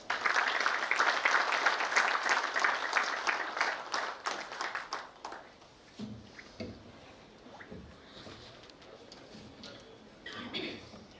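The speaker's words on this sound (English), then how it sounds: "Please welcome him with a thundering round of applause" Applause welcoming a guest at a GSIA industry association annual general function, dense clapping for about five seconds that then thins into a few scattered claps and soft sounds.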